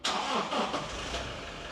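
A 2021 Toyota Revo pickup engine cranks and catches with a sharp burst, then settles into a steady, close idle rumble.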